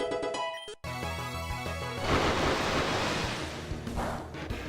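Swirling water vortex attack trapping a Pokemon in Pokemon Uranium, a rushing surf-like wash that swells after a short musical intro and churns steadily under game music.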